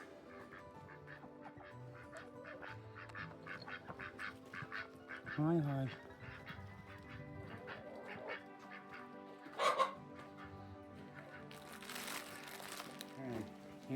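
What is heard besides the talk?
ducks quacking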